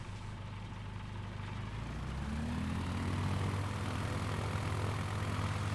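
A single-engine Caravan propeller plane in a flight simulator game drones steadily on a runway, its engine note rising and swelling as power builds, loud and continuous with no talk.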